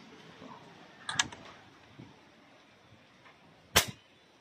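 A 16mm DBB-R air rifle with a 22-inch barrel and shroud fires two quiet, sharp cracks outdoors in windy conditions, the second shot crisper and louder, over a soft breezy background.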